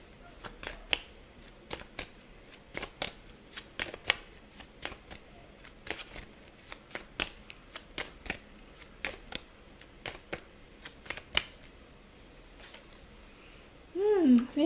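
A deck of tarot cards is shuffled in repeated quick riffles and taps, close and crisp, with quiet pauses between, ending in a brief louder rustle.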